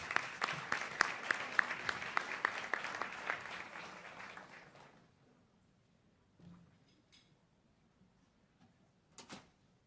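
A conference audience claps in warm, dense applause to welcome a panel at an education event. It fades out after about five seconds into a quiet room with a few faint knocks.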